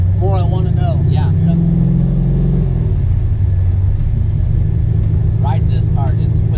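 A Chevy Chevelle's engine rumbles deep and steady from inside the moving car, a loud low drone under people talking throughout.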